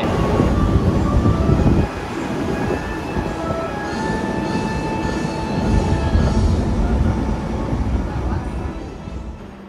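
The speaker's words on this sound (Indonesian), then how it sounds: "Tegal Baharinya nongol. Wow, rangkaian panjang." A long Tegal Bahari passenger train rolls into a station platform, its heavy rumble and clattering wheels loud and close with faint squeals, the rumble surging and easing as the carriages pass.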